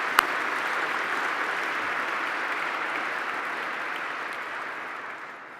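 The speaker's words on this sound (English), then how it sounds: "one more round of applause" A dinner audience at an awards banquet gives a round of applause, a steady, moderately loud wash of clapping from a large room that holds evenly and begins to fade at the end.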